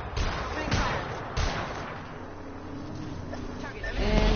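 Gunfire in the video game Apex Legends: a few dull, muffled shots early on, buried in dense, rumbling battle noise that stays busy throughout, with no talking.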